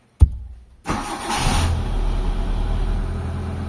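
Mitsubishi Lancer left sitting a long time making a cold start: a sharp click, a brief crank, then the engine catches with a burst and settles into a steady, fairly loud idle nearby, no talking.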